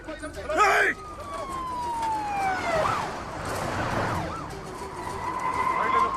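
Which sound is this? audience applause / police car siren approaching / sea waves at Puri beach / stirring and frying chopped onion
police car siren approaching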